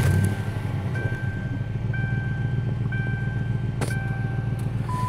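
A 2003 Lincoln Town Car engine runs at a steady low idle nearby, while a warning chime beeps about once a second over the rumble.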